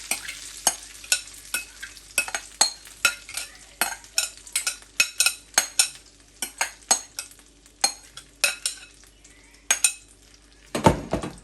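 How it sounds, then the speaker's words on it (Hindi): Spoon or spatula scrapes and clacks against a pan as a corn mixture is stirred and sautéed in melted butter, sharp irregular knocks repeating over a soft sizzle, close and clear with no voices. "अब इसमें मैं ये कॉर्न जो मैंने मिक्सचर बनाया था ये ऐड करने लगी हूँ।"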